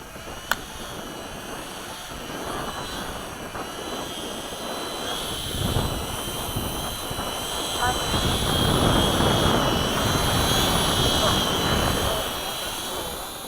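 A Hobby King Mini B-17 radio-controlled scale model plane flies in gusty wind, its small electric motors giving a steady buzzing drone that swells toward the middle, mixed with broad wind noise and people talking nearby.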